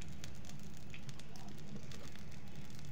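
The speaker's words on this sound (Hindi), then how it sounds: "सरसों के तेल हम डाल रहे हैं" Mustard oil going into a hot kadai while chicken masala is being made: a steady, faint crackling sizzle with scattered small pops throughout.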